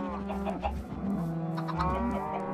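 Chickens in Minecraft cluck repeatedly in short, choppy bursts over a steady tonal backdrop, moderately loud and close.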